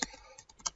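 A few quick, light keystrokes on a computer keyboard, spaced unevenly across a brief moment in a quiet room.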